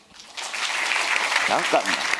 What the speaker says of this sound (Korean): 박수를 친다. 막 친다.